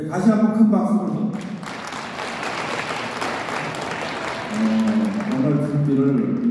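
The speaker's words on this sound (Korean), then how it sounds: "다시 한번 큰 박수로" Audience applause at a Korean political rally and declaration event, a steady wash of clapping in the middle seconds framed by someone speaker's amplified voice before and after.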